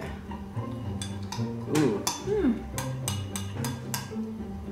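Spoon clinks and scrapes against a bowl while keto peppermint chocolate fat bomb ingredients and sweetener are stirred together, a steady run of light metallic taps under a person's brief exclamation and background talk.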